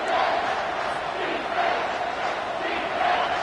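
A stadium crowd roars continuously at a football game after a big third-down play, a dense, loud, sustained cheer with swelling moments and no break.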